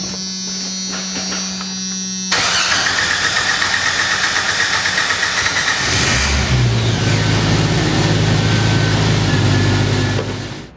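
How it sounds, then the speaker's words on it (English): Engine of a Jeep YJ cranking and catching: a short buzzing whine from the starter, then a loud, steady idle with a low throb close by, alone without voices. "next time you go to start the engine, you have long crank times"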